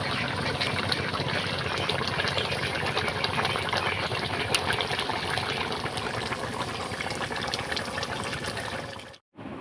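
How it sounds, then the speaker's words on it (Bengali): Silver fish curry with potatoes and drumsticks in a red gravy seasoned with cumin powder, bubbling in a pan; a steady, close, loud wash of simmering and boiling that cuts off abruptly near the end, with no talk. "ঝোলের মধ্যে দিয়ে দিলাম অল্প একটু জিরের গুঁড়োটা দিয়ে আমি একটু সময় নাড়াচাড়া করে ঝোলটাকে একটু ফুটতে দিয়ে দিলাম।"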